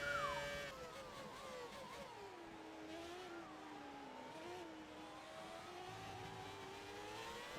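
Formula 1 car engine from the F1 2018 racing game, a loud, continuous high-pitched whine that rises and falls through gear changes, alone with no talking.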